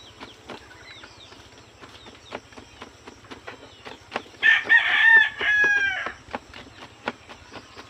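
Chickens peck at a feed of mixed vegetables with rapid, regular tapping. Soft clucks come through close by, and a rooster crows loudly partway through.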